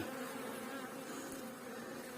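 A dense, steady buzz of many bees humming close by at a hive, continuous and even throughout with no talking.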